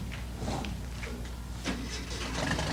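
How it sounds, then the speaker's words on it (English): A car engine cranks and catches, a low mechanical churning with steady rumble throughout, fairly quiet and close. "All right, the engine turn over."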